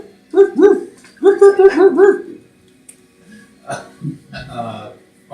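A person's voice imitates a dog, giving a few short barks and yips in quick bursts, followed by softer vocal noises.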